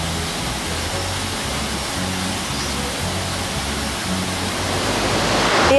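A waterfall in Upper Austria roars as a steady broadband rush of falling water, loud and continuous throughout, with no voices heard.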